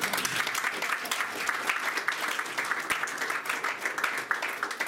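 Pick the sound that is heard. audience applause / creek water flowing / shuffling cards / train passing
audience applause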